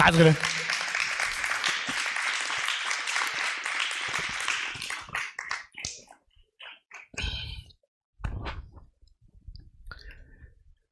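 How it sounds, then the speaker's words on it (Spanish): A church congregation applauds at a Christian sermon while the preacher pauses to drink water; a dense burst of clapping runs for about five seconds, then fades to scattered claps and small handling noises. "Aplaudan mientras tomo agua"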